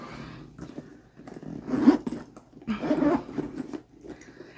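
A zipper with gold detailing on a Loungefly bag is drawn in two or three short scratchy pulls, close and fairly loud, with brief pauses between them and no talking.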